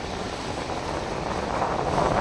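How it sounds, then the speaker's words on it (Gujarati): Steady rushing wind gusts during heavy rain in a village, roaring against the microphone, a dense broad hiss that swells slightly toward the end, with no voices. "પવનના સુસવાટા ભેગા"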